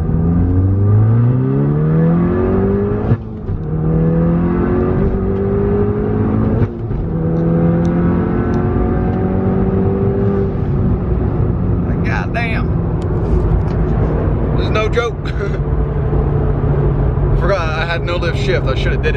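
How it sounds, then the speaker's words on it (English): Tuned VW Golf MK7 pulling hard in second gear, engine note climbing steadily in pitch as revs rise, loud and close from inside the car, with people talking over it and brief shift-like breaks. "This is a second gear pull."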